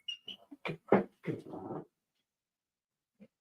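A small, chubby dog lets out a quick string of high whimpers and whiny yelps, close and fairly loud, then falls silent with one last faint whine.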